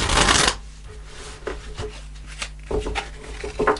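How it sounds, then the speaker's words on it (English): Tarot cards from the Tarot of Dreams deck being shuffled by hand, with a loud riffle at the start followed by softer, irregular flicks and slides of the cards close up. "So I'm just pulling an overarching tarot card to see what your message is."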